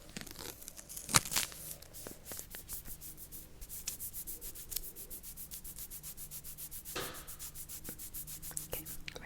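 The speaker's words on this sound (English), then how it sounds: "I'm going to go ahead and do the top strip of wax first" Wax strip pressed and rubbed onto an eyebrow in close-up, a soft continuous rubbing and crinkling texture with a few sharper taps and brief tearing sounds, quiet and intimate, no voice.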